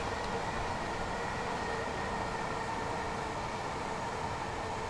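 Steady, continuous rumble of a train running in Train Sim World 2, a dense low roar with rail hiss at constant loudness throughout and no voices.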